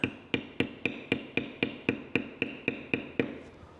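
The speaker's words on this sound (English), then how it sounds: "now I didn't bevel this one, so I'll go ahead and do that" A leather beveling tool is struck over and over with a maul while beveling the border of a leather tally book cover. About thirteen crisp, evenly spaced knocks ring out close and alone.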